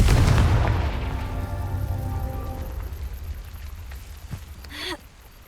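A booming explosion from the Confringo spell in a Hogwarts video game, a deep blast that rolls and fades over several seconds, followed by a brief high magical shimmer.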